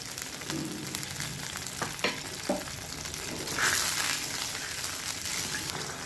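Water heating in a pan for ragi upma, with salt added, gives a steady low bubbling and sizzling hiss throughout, with a few soft clinks of utensils near the middle.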